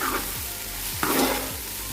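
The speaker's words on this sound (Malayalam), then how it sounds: "അതിലേക്ക് ഉള്ളി അരിഞ്ഞത് ചേർത്ത് കൊടുക്കുന്നുണ്ട്" Sliced onion sautés in a pan with whole spices for paneer biryani, a close sizzle broken by several scraping spoon strokes, no talking.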